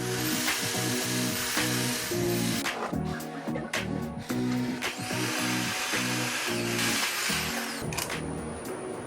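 A power drill bores pilot holes into wood for a workshop paint table, its motor whining in loud bursts that start and stop, close up, with no talking.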